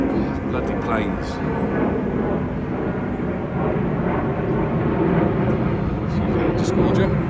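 An airplane flies over the River Thames at a fishing spot, a loud, sustained engine rumble that stays fairly even throughout.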